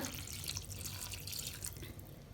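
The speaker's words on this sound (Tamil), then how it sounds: "இஞ்சி பூண்டு விழுது போட்டு தண்ணி ஊற்றிக்கோங்க." Water poured into a pan of chicken bone lentil curry with tomato and ginger-garlic paste, a steady close splashing and trickling that runs unbroken through the whole short stretch with no voices.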